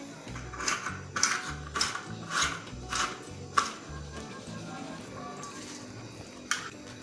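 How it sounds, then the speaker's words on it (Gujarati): A sancha gathiya press is cranked to extrude chickpea dough for Bhavnagari gathiya, giving a run of rhythmic mechanical clicks and scrapes at close range, then a few sparser clicks, with low background noise. "આવી રીતે આપણે સંચા વડે પાડશું એને."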